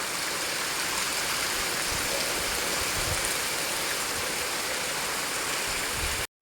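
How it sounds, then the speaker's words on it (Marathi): Heavy rain driven by strong wind in a Konkan village, a dense, steady roar that stays loud and unbroken from start to finish, with no voices. "दुपारचा 1 वाजला आणि पाऊस आलाय जोराचा"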